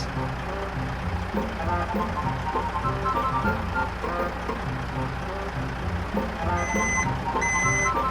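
Steady high reversing beeps from a toy truck chirp in a regular pattern near the end, over a busy background of clattering toy sounds and a bright melodic jingle.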